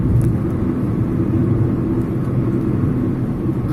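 Car cruising at a steady 100 km/h on the Mumbai–Nashik highway during monsoon, giving a constant loud low road and engine rumble with tyre roar throughout and no talk.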